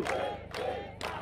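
An Easter gathering crowd lets out three quick, loud bursts of shouted cheering in rapid succession, like a rhythmic collective cry.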